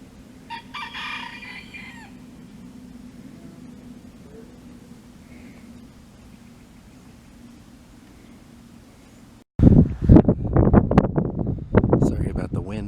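Chickens on a windy biodynamic farm, with faint wind noise for several seconds and then loud, close clucking and a rooster's crow bursting in toward the end.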